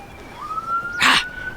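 A police car siren passes outside while the listener is aboard a 38-foot electric converted sailboat. It is a faint, distant, thin wailing tone that rises and holds, with a brief sharp noise bursting in briefly near the end.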